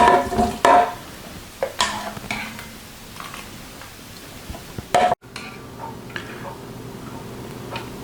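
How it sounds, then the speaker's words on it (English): A spoon scrapes and clinks around a pot of butternut squash soup with lime juice in it, a few soft metallic knocks over a quiet background and no talking. "Give that a good stir."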